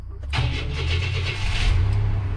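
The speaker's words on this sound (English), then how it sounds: "Let's make sure the truck starts." A 1994 Chevy truck engine cranks briefly, then catches and settles into a loud, steady idle close by, with no talk.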